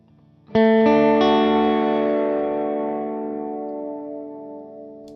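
A distorted electric guitar chord rings out through a Strymon NightSky reverb pedal with modulation speed at minimum, sustaining and slowly wavering as it fades over several seconds.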